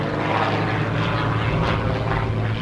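A high-intensity aerobatic plane with a 327-horsepower, 8.75-litre Lycoming engine and a foam, carbon-fibre and titanium propeller drones steadily and loudly throughout, a constant engine roar with a low propeller hum and no voices.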